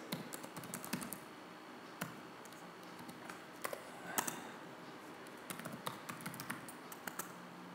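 Someone types a password on a computer keyboard, a quick run of light key clicks and taps in irregular bursts, close and fairly quiet, with no talking.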